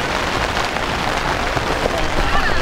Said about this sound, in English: as the rain still comes down